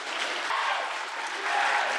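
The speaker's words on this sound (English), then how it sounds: "Give them a round of applause." Audience applause fills a poetry slam venue, a steady dense wash of many hands clapping at close range that swells slightly toward the end, with no voices over it.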